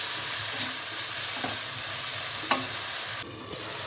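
Two large cut tomato pieces frying in a pan for a dry prawn and ivy gourd fry, giving a steady close sizzle with a few stirring clicks, then a sudden drop as the sizzle quiets near the end.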